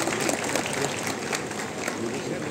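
Audience applause at an engineering college felicitation ceremony for medalists and toppers, a sustained, even patter of many hands clapping in a hall, steady and moderately loud from start to finish.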